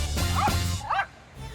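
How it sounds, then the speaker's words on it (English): A small dog barks loudly and close by, two sharp barks in quick succession followed by a quiet pause. "I don't know how a small dog can be so loud."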